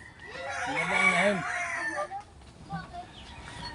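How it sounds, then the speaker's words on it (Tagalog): A hen calls loudly nearby with a drawn-out crowing cry, followed by a few softer clucks and background noise. "Magandang, magandang inahin."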